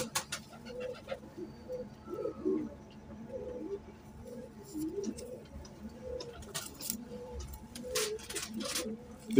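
Pigeon cooing nearby in soft, repeated low throaty phrases, with faint background clicks and ambient noise, no talking.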